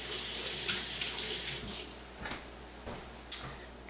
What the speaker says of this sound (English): so I'm going to rinse this off real quickly.